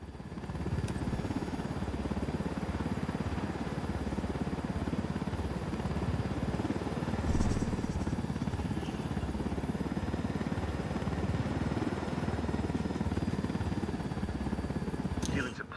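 Supply helicopter in Ghost Recon Wildlands, a steady rotor and engine drone running throughout at constant loudness, with voices talking over it.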